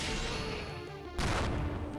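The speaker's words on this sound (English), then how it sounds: "I love the explosion sound effect" Explosion effect from the side-scrolling game Spirit Engine DX: a sudden broad burst that swells midway and rumbles on over a continuous busy game soundtrack, loud and close.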